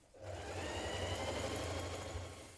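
A sewing machine runs continuously for a couple of seconds, stitching trouser pockets onto back pieces with a 6mm seam, a steady rapid mechanical whir with low thumping, fairly quiet and close.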